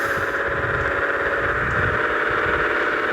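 A Traveller van's engine runs steadily while the driver works through the gears, giving a continuous mid-pitched drone with a low rumbling rattle, close and even throughout, with no voices.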